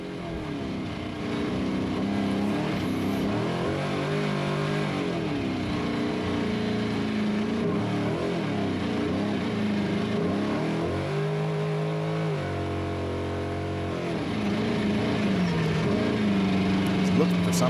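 In-car sound from an off-road race vehicle during the SCORE San Felipe 250 desert race, a loud, steady engine drone with rising and falling revs as it shifts, continuous throughout with harsh wind and rattle noise.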